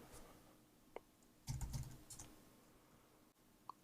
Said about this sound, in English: or you can type in a number.